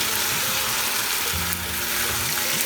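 Diced potatoes sautéing with poppy seed paste and a little turmeric for Bengali aloo posto, a steady close sizzle and soft frying crackle with faint stirring scrapes, no talking.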